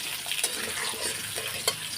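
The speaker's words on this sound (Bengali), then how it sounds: "এখন আমি আলুগুলোকে লাল লাল করে ভেজে নিয়ে তারপর মশলা দেবো" Potato pieces frying in hot oil make a continuous close sizzle broken by a few sharp stirring scrapes and clicks, heard alone without speech.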